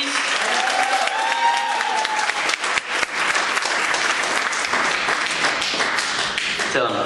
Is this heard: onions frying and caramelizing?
no